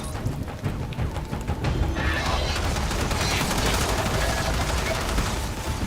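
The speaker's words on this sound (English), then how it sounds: "Okay, who's shooting at me?" Dense, sustained rapid gunfire rattles throughout a Warframe battle, continuous bursts layered into a loud fusillade with mechanical clatter, and a voice is faintly audible beneath it.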